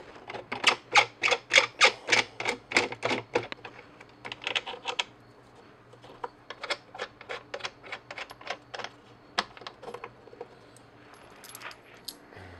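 Screws come out of the bottom panel of an old electromechanical Count-Down pinball cabinet as fast, crisp, ratcheting clicks, first in a steady run and then in looser, scattered bursts, close and without talk.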